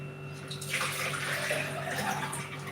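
Water gushes from a tap into a container, starting suddenly after a quiet moment and then flowing steadily and fairly loudly over a faint background hum.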